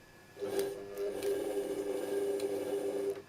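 Singer 201 sewing machine with its flywheel turned by hand, giving a faint, steady mechanical whirr and hum that runs for a few seconds with a couple of light clicks.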